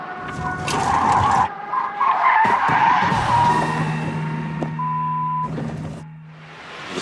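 Car skidding as the driver oversteers in a sharp turn: loud tire squeals in several bursts, the longest stretching a few seconds, with tonal screeches and engine noise between them and no talk.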